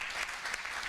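Brief applause from the audience at a boxing convention, a short steady wash of many hands clapping at moderate volume.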